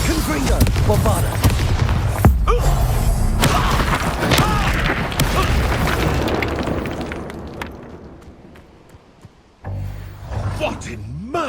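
Confringo and Bombarda spell explosions in the Hogwarts Legacy video game, with loud booming blasts and crackling bursts piled over dense battle noise, gradually fading, then a fresh burst near the end.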